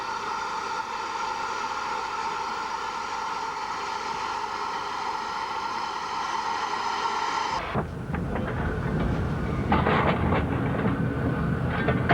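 A Great Western Railway steam locomotive runs along the rails with a rolling rumble and clickety-clack, a steady hiss that shifts to a louder, rougher roar partway through, with no voices.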